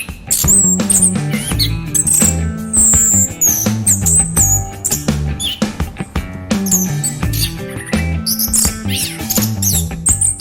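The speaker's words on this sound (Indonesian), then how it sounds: "Burung anis kembang mempunyai suara dan alunan lagu yang begitu baik." An orange-headed thrush sings loud, varied chirping phrases, repeated over a steady musical accompaniment with low beats.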